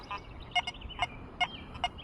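An XP Deus II metal detector running a general program at up to 40 kHz gives short, high, tonal chirps. About six quick electronic beeps come at uneven intervals over faint outdoor background noise.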